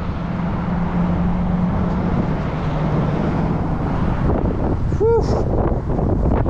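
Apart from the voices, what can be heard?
strong wind blowing on a walk outdoors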